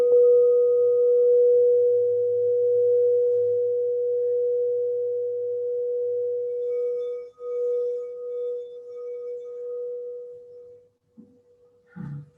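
A singing bowl tuned to the third eye chakra is struck once and rings with a steady, pure sustained tone that slowly fades over about eleven seconds, followed by a faint brief knock at the end.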